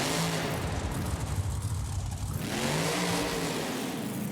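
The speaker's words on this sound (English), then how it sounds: "the engine of Gravedigger never gets old. It's like music to my ears." The Grave Digger monster truck's big engine revs hard at an event, a loud continuous roar that dips and then surges again, with crowd noise underneath.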